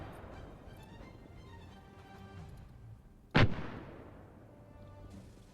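A single sharp, loud mortar blast in the Arma 3 military shooter, close and sudden with a decaying rumble, standing out over a quiet background of faint game ambience.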